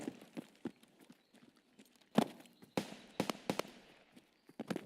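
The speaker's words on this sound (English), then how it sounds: "That's Scav's shooting at a player right now" Distant gunfire from Scavs shooting at a player in Escape From Tarkov: scattered faint sharp cracks and pops at irregular intervals, a few louder bursts among quieter far-off shots.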